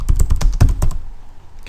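Rapid keystrokes on a computer keyboard, a quick burst of close, crisp taps for about a second, then near silence.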